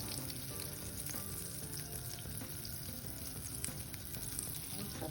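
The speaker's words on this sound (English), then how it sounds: "Okay, so now my butter is melted." Melted butter sizzles steadily in a large round traditional pancake pan, a continuous close frying crackle with small pops that holds for the whole stretch, with no voices.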